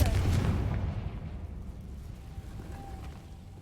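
A Confringo blasting spell explodes in the Hogwarts Legacy video game as a loud, deep boom that starts the clip and rumbles away over a few seconds.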